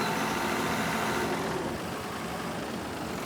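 A tractor engine in Farming Simulator 22 runs steadily with a low idling rumble, loud and continuous throughout with no talk over it.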